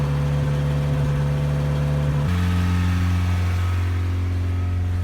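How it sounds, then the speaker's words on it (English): A 1987 Toyota pickup's 22R engine, after a 10-15 minute cold-start warm-up, idles steadily with a high, constant hum that drops to a lower pitch partway through, running continuously without speech. "It's been warming up for like 10 or 15 minutes now, and it's still idling really high."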